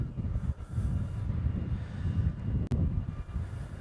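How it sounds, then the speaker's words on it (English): A Boeing C-17 military transport jet passes overhead as a steady, low, distant engine roar at a Honolulu airport at sunset, faint and continuous with no talk. "That C-17 is now somewhere over our head."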